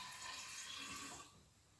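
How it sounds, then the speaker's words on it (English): Cold water pours onto foraged rosehip and elderflower blossoms in a container, a quiet steady close splash lasting about a second before it tapers off. "So put a little bit of a little bit of cold water first,"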